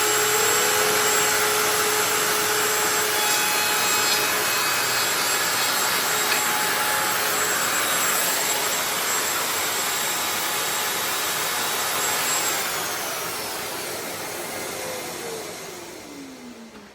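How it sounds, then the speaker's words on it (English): A router trims walnut veneer edge banding with a continuous high whine that holds steady and then spins down near the end, close and loud with no talk. "Back with the router."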